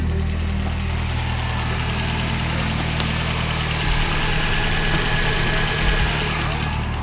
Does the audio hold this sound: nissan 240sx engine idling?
yes